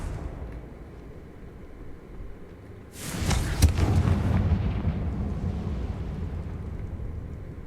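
Confringo fire spell in Hogwarts Legacy going off: quiet ambience, then a sudden loud explosive burst with crackling impacts and a long rumbling tail that stays loud to the end.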